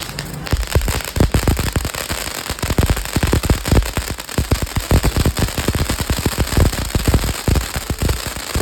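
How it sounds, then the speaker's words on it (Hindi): Diwali firecrackers going off outdoors in a loud, continuous barrage of sharp cracks and pops, rapid and overlapping like rattling gunfire over a constant crackling roar. "इसके बाद हमने किया बहुत सारा सेलिब्रेशन, जहाँ पे हमने फायर क्रैकर्स चलाए।"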